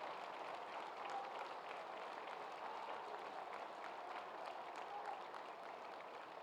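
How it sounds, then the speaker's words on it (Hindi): A standing audience applauds a chief minister at a foundation-stone ceremony for redeveloping PMCH hospital, a dense, steady wash of many hands clapping that carries evenly throughout without any voices. "एक बार खड़ा होकर सभी लोग ताली बजा के अपने माननीय मुख्यमंत्री जी का अभिनंदन और स्वागत करें।"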